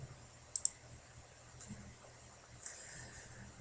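Two quick mouse clicks sound close and faint over a quiet room background while working in CATIA v5 design software, followed by a few softer clicks later.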